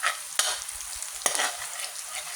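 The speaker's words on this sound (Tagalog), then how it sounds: "Gisa muna tayo ng bawang at sibuyas." Garlic and onion sautéing in a pan for garlic fried rice, a low steady sizzle marked by two sharp spoon scrapes.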